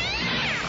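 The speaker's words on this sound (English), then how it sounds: "White cat nibbling on a wire." A white cat gives a single short, drawn-out meow, close and clear, with no talking around it.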